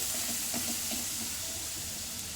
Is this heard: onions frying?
yes